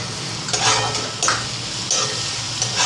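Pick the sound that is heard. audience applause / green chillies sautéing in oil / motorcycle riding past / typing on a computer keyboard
green chillies sautéing in oil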